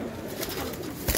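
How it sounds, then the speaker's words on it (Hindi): A lakha pigeon cooing softly up close, a low steady murmur lasting about a second, with a brief thump near the end. "ये देखें जी कबूतर लाखा लेके आया हूँ"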